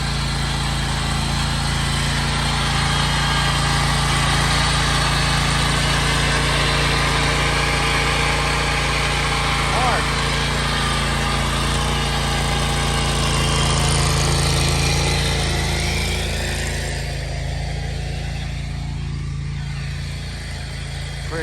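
A lawn aerator's small engine runs steadily outdoors on a dry lawn, a loud continuous droning hum that eases off slightly near the end.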